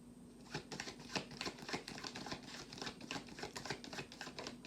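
Tarot cards are drawn and handled from a deck, giving a quiet, steady run of soft papery flicks and rustles with no voices.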